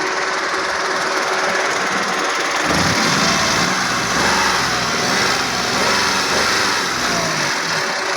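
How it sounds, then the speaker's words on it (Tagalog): A 2016 Toyota Wigo G manual car's engine runs steadily, close and loud, with a buzzy mechanical drone and a slight rise in revs partway through, no voices. "Sumuni ang sound sa makina."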